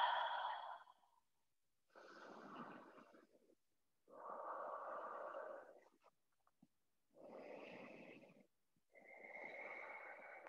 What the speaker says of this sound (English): So we can pick up some Ujjayi breathing